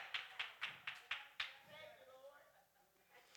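Sharp, rhythmic hand claps from a church preacher, about six evenly spaced claps close up, followed by a voice speaking.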